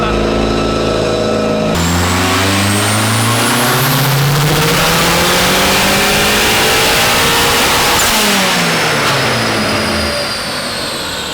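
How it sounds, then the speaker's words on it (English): Volkswagen-swapped BMW E36 on a dyno, a loud turbocharged engine revving hard through rising and falling pulls with wastegate noise, voices faintly present under the roar. "That wastegate cracks so hard."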